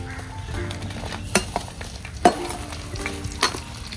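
Chili peppers frying and being stirred in a hot pan for Mangalore-style fish head curry: a steady close sizzle broken by a few sharp scraping knocks of the spoon, with no talking.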